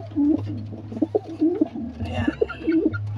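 Pigeons coo softly close by in a cluster of repeated low, throaty calls, with a low steady hum underneath.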